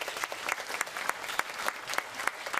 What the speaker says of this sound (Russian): Именитого ученого студенты Уральского федерального университета встречают аплодисментами